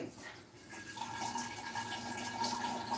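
Water runs steadily into a glass jar in a home kitchen, a continuous close pouring and filling sound that rises slightly in pitch over a few seconds, with faint background noise.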